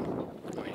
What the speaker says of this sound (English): You can tell it's windy.